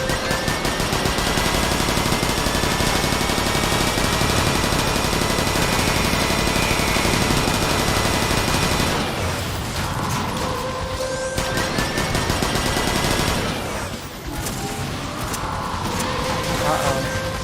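Rapid bursts of automatic gunfire from a Transformers cartoon scene, with gunfire aimed at Vortex. The shooting runs loud and continuous, then breaks into shorter volleys with mechanical clanks and pauses between them. Voices can be heard under it.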